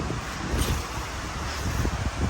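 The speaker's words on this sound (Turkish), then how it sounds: "Rüzgar" Steady wind blowing across the microphone in a garden, a broad rushing noise with gusty swells and no voices.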